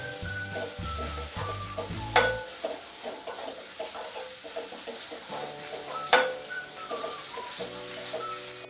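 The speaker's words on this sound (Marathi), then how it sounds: "आता आपल्याला लसूण अद्रकची पेस्ट केली आहे ना ती घालून घ्यायची आहे आणि परत आपल्याला असं परतून घ्यायचं आहे" Garlic-ginger paste frying with onion in a pan for goat intestine masala, a continuous sizzle with repeated spoon stirring and scraping, two loud metallic clanks against the pan, close up.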